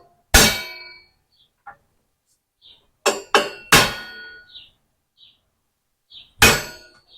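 Hammer strikes on a steel punch against tractor metal, marking a divot on a 2023 Kioti RX7320: several loud, sharp metallic clangs, some in a quick pair, separated by quiet gaps and faint small clinks.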